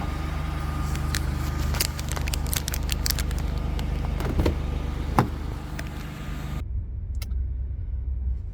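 A car on an early-morning road drive to Amarillo: a steady low rumble of road and engine noise with scattered light crackles, cutting off sharply near the end, with no talking.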